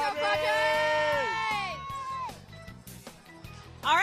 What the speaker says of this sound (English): Can we get one more cheer before you guys go?